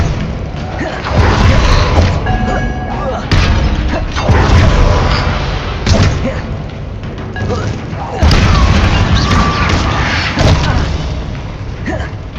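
Fire spell blasts in the video game Hogwarts Legacy, with repeated heavy booms and crashing bursts in waves, loud and close, mixed with a voice talking over the action.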